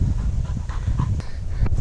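A hunting dog on a rabbit and partridge hunt pants rapidly and whimpers close up, with short breathy puffs and a couple of brief high whines over rustling.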